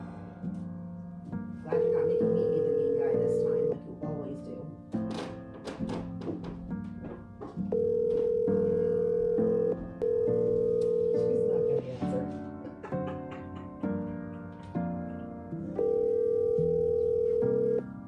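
A telephone rings back repeatedly while a call is being placed, steady tones in four evenly spaced bursts of about two seconds each, loud and clear, with background music running underneath throughout.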